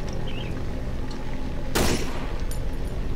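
A single gunshot in the horror video game Cry of Fear, one sharp loud crack with a short noisy tail over a steady droning game ambience.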